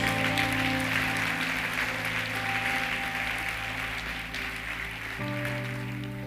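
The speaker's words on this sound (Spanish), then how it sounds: "Si lo crees, dale un aplauso a Jesús." A church congregation applauding during a Sunday service, a sustained wash of clapping over a held organ or keyboard chord that shifts pitch near the end.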